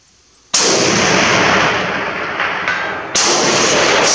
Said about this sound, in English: let me shoot one more at it